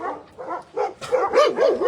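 Dogs at an animal shelter let out a string of yelping barks and whiny yips, close and loud, quickening into an excited overlapping burst toward the end, with no one talking.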